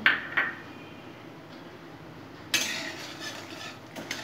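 Washed sona moong dal frying in a pan for a vegetarian shukto-style dish, heard as a few sharp metallic clinks of a utensil against the pan over a faint low sizzle, with a louder scraping stir midway.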